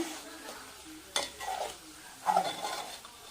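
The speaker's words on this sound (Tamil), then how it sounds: "போட்டு பரட்டி எடுத்துங்க." Potato and capsicum masala being stirred in a pan, with a soft sizzle and a few scraping spoon strokes against the metal, quiet and close.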